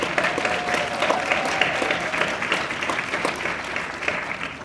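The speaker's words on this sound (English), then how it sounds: "So I want to give him a round of applause for that" Sustained applause from a convention audience honoring a panelist, continuous crowd clapping at an even level throughout, with a faint tonal hum running beneath it.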